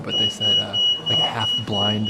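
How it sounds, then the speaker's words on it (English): Inside the bone church in Prague, an alarm holds a steady high electronic tone beneath a man's close, continuous speech. "that's the alarm going off"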